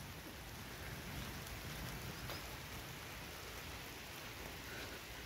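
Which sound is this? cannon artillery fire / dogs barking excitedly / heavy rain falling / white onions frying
heavy rain falling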